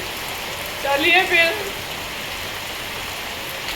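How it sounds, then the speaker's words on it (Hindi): Heavy rain falling at home, a dense steady hiss throughout, with a brief spoken voice over it. "ऐसी बारिश हो रही है इतनी ज्यादा की।"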